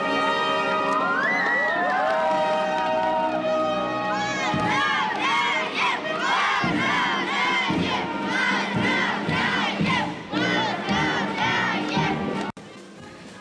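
Fans at an airport in Krasnoyarsk greet Yulia Zykova, returning with Olympic silver in rifle shooting, with loud, sustained cheering and rhythmic shouted chants from a close crowd that cut off abruptly at the end.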